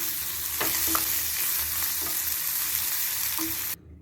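Chutney ingredients sizzle steadily in a hot pan on a gas stove while a utensil scrapes and stirs a few times, then the sound cuts off abruptly.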